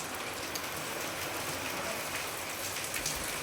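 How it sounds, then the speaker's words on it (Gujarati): Steady rain falls outdoors, a dense, even hiss of drops pattering on surfaces that runs without a break and stays moderately loud throughout. "વરસાદ તો અત્યારે બહાર ચાલુ છે"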